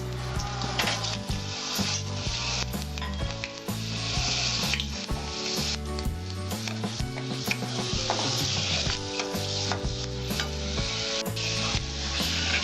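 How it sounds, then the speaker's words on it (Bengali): Fenugreek seeds sizzle in a tablespoon of hot oil for a papaya curry, giving a continuous crackling hiss. Scattered pops and steady tonal background sounds run underneath. "এক টেবিল চামচ তেল দিলাম প্রথমে আমি মেথিটা দেবো"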